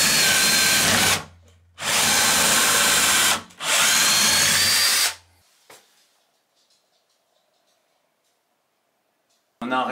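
A power drill bores pilot holes and drives screws into a wooden climbing beam mount: three loud, sustained whirring bursts separated by short pauses, then near silence with a faint click and a final brief burst.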